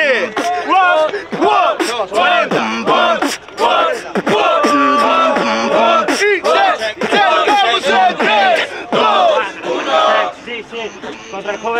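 A loud, rowdy crowd at a Street Warriors Argentina 2023 freestyle rap battle cheers, yells and whoops continuously, with shouted voices rising and falling over the din.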